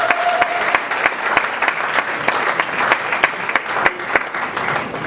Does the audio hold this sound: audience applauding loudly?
yes